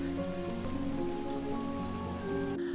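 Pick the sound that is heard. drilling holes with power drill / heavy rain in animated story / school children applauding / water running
heavy rain in animated story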